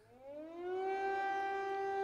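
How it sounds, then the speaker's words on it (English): A wailing air raid siren in central Kyiv rises in pitch and then holds a steady, loud tone, with layered harmonics and no voices. "In central Kyiv, air raid sirens rang out again."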